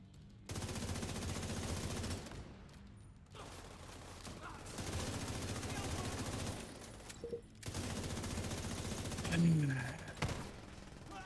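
Regular rifle gunfire in a looter-shooter video game, heard as long sustained bursts of rapid automatic shots separated by short pauses, fairly quiet in the mix.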